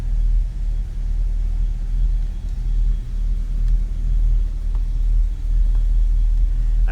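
A 1955 Buick Special Riviera hardtop's engine runs quietly and smoothly, a soft low rumble with slight swells in level, heard from inside the car with no talking.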